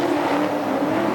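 A drift car at a D1NZ Drift Series round at Mt Smart Stadium in New Zealand, its engine droning loud and steady as the driver feeds in power on track, with a faint hiss of tyres beneath the engine note.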